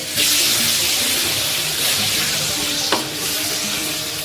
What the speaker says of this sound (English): we gently pour a small amount of the flavorful cuttlefish broth into the pan